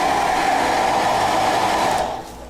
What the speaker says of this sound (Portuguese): Mas você pode vir aqui com o secador